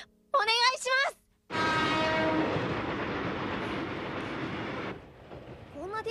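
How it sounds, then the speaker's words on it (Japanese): A crowded commuter train bound for Tokyo rushes past in an anime scene with a steady roaring rumble and a harmonic horn-like tone. Brief voices come before it, and the sound drops away abruptly at the end. "こんな電車に毎日乗ってるんですか？"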